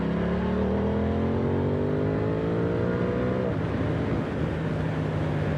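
An Aprilia Tuono 660 Factory motorcycle being ridden, its engine note rising steadily through the gears in a rising whine, then dropping as it shifts, loud and continuous over rushing wind.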